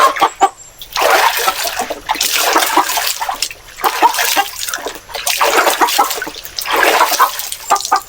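A broody Hercules hen drenched with water, loud splashing and pouring in repeated bursts, with sharp brief sounds between the pours.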